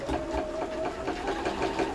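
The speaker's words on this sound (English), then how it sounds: "I'm now sewing with the vinyl on the bottom, which might be what's causing an issue." A sewing machine stitches a vinyl boot bag with the vinyl underneath, giving a steady, close mechanical whirr with rapid rhythmic needle pulses throughout.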